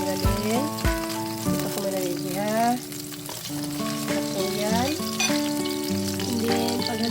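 Chopped onion sautéing in a pan at home, a steady soft sizzle running under loud melodic background music with a few sharp utensil knocks.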